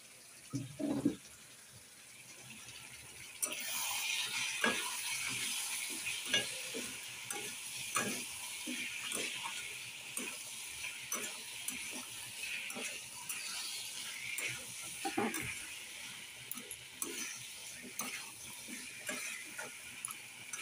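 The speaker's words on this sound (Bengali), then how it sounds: "এবার আমি এটা একদম আঁচ কমিয়ে ভেজে দেবো" Soya chunks fry in a pan over low heat, with a soft sizzle under repeated scraping and clacking strokes of a metal spatula, irregular and close, quiet overall.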